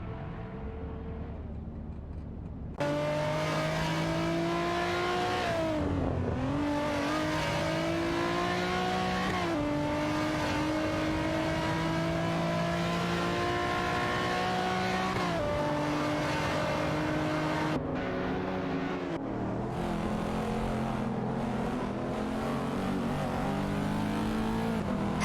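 Race car engines in an AI-driven racing game drone and rev continuously as the cars jockey for position, with pitch rising and falling through gear changes and a steady, loud roar throughout.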